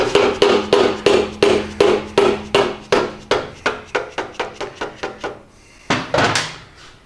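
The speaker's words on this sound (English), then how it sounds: "I can take a rubber mallet like this and start popping that out." A rubber mallet taps out a part on a Harley-Davidson Softail motorcycle wheel, striking about twenty times in a steady, quickening rhythm of close, solid thuds, then pausing before two final blows.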